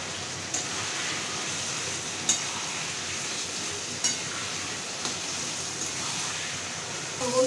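Whole hilsa fish heads cooked with kochu greens, stirred in a pan with salt, turmeric and chilli paste, giving a steady sizzling, crackling fry with a few soft clinks of the spoon at irregular moments.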